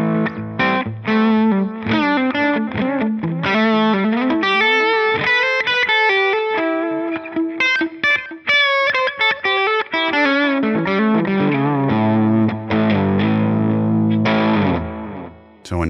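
Electric guitar played through a Line 6 Helix Matchstick amp model, a driven, lightly distorted tone with strummed chords and single-note runs, loud and continuous with no talking.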